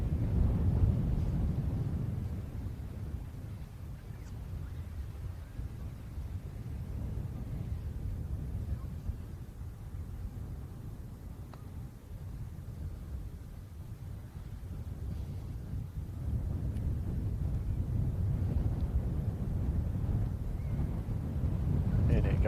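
Strong, steady wind buffets the microphone on a coastal golf course at Dunstanburgh Castle, a continuous low roaring rumble that swells and eases throughout with no clear talk.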